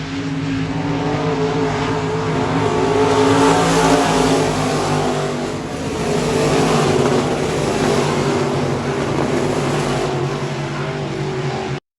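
A race car rounding a corner on a track, its engine a loud, steady roar that swells and dips slightly as it works through the turn, heard alone without voices.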